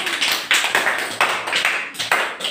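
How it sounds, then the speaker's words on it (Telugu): A group of children clapping together in an anganwadi class, a loud, close, uneven patter of hand claps coming in repeated bursts. "కొట్టండి క్లాప్స్ కొట్టండి"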